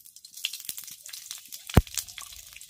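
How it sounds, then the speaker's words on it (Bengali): Panch phoron five-spice seeds dropped into hot mustard oil, giving soft crackling sizzle and scattered pops with one sharp close snap, faint and intermittent over a quiet background. "তেল গরম হয়ে গেছে, এবার তেলের মধ্যে দিয়ে দিচ্ছি 5 ফোড়ন।"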